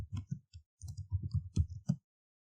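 A short burst of keyboard typing while entering text on a computer, about a dozen quick, close taps in uneven clusters, fairly quiet and with no voice over them.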